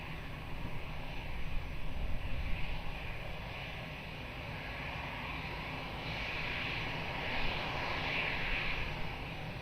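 A heavy airliner roars on the runway at Lisbon Airport during takeoff, a sustained broadband engine rumble with a rising high whine, heard from a distance and steady throughout.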